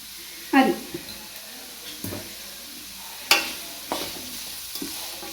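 Onions sautéing with a little salt in a pan: a soft, low sizzle with a few louder scrapes and stirring knocks spread across the clip, no voices.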